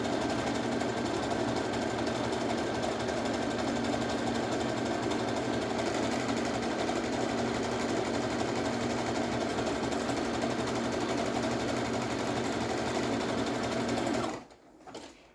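A domestic, non-professional sewing machine hums steadily and close up for about fourteen seconds while sewing panties, then stops abruptly, leaving a brief quiet tail.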